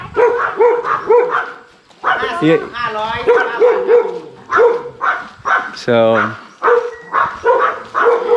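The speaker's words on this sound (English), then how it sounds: "All my brave dogs." Several dogs bark in a steady series of loud, close barks with a yelp or whimper mixed in, and someone speaks briefly between them.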